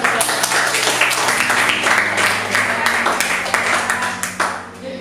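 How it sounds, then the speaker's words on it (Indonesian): A group of students claps in applause after a classroom group presentation, a dense patter of hands that holds steady and then thins out toward the end. "kita beri tepuk tangan"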